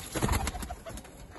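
Pigeons kept by a pigeon fancier in Lahore coo briefly in soft, low bursts against a noisy, close background.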